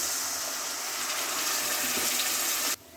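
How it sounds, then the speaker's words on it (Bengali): A small amount of water is poured onto onions fried until reddish in a pan, giving a steady, loud hiss and rush that cuts off abruptly near the end, with no talking. "পেঁয়াজগুলো আমি লাল লাল করে ভেজে নিয়েছি, আমি দিয়ে দেব সামান্য পরিমাণ পানি।"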